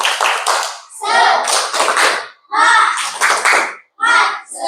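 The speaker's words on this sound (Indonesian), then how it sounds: "Supaya lebih semangat, berikan tepuk semangat." Children in a primary school classroom clap the rhythmic "tepuk semangat" chant in loud, closely spaced bursts with short pauses between phrases, voices mixed in with the claps.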